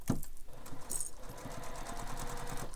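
A sewing machine stitches up the side of a fabric wallet in a quick, even run of mechanical pulses, close and moderately quiet, with a brief whirr as it starts.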